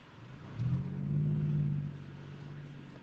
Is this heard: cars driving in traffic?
yes